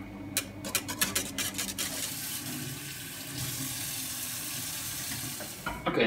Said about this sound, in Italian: Riempito con acqua fredda e adesso pian pianino giriamo e raffreddiamo.